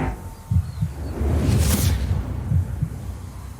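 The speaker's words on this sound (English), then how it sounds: "He has like this heartbeat going on very softly underneath all of this now" Soft, low heartbeat-like thumps pulse steadily underneath a vlog's sound design, paired with a brief airy whoosh in the middle; no talking.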